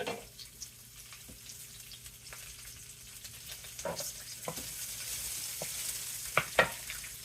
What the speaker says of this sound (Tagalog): Magluto muna tayo ng ampalaya.